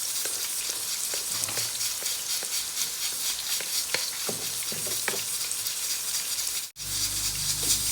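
Onions fry to light brown in a pan for a kofta chanay dinner, a steady close sizzle broken by scraping stirring clicks, with a brief dropout near the end and no talking.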